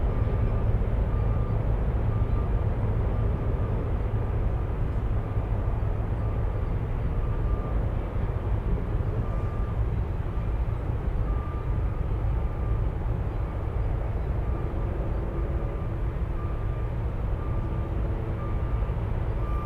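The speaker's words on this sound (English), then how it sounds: "Alaska 56 flying to Los Angeles." An Alaska Airlines jet airliner drones steadily at an airport in Anchorage, a continuous broad roar holding level throughout with no talking.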